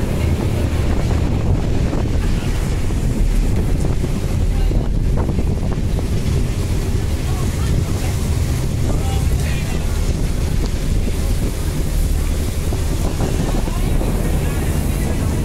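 An Auckland commuter ferry reverses and turns, with a steady heavy rumble of engines and churning water mixed with strong wind buffeting the microphone.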